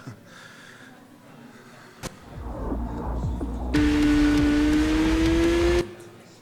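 Car engine in a racing video game, a rising engine hum that swells into a steady, loud sustained whine for a couple of seconds before cutting off abruptly, with no talking.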